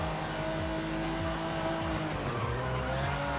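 A rear-wheel-drive Ferrari 512 TR in Forza Horizon 5 oversteers and skids, its tyres squealing steadily over a droning, revving engine note that rises and falls throughout.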